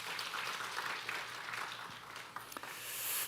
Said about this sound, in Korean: 우리 뒤에 있는 우리 김은일 간사님 수고 한 해 동안 너무 많았는데 우리 위로의 박수 부탁드립니다.